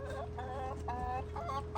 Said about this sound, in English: So I came back out here to check on the chickens.